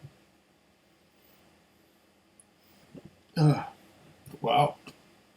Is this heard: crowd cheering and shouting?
no